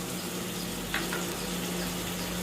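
Finely chopped capsicum sautéing in a hot pan while cooking chicken lollipop, a steady close sizzle and crackle of frying with a faint stir.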